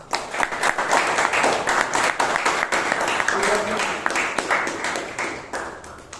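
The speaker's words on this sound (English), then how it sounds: "please give your thunderous round of applause for the guests" Audience applause for the guests at a Toastmasters club meeting in Bangalore: steady, dense clapping from a room of members, with some voices mixed in, continuing at an even level throughout.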